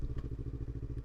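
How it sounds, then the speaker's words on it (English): Yamaha R3 motorcycle engine decelerating under engine braking, a steady low throbbing pulse close by, loud and continuous with a faint clattering edge as revs fall. "when you come off the throttle, the engine, hear it slow down?"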